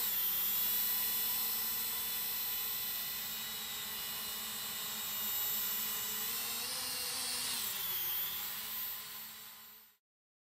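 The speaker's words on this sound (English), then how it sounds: "I now start a camera flight with the JJRC drone to conclude this review." A JJRC H106 quadcopter drone flies with a steady high whining buzz of small propellers, close and constant, rising slightly in pitch before it suddenly cuts out at the end.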